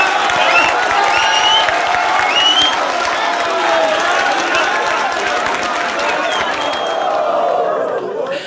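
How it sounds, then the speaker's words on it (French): Sustained applause and cheering from an audience after a performer is introduced, a dense roar of clapping and shouts that stays loud and then tapers off at the end. "c'était Saminem, vous pouvez l'applaudir."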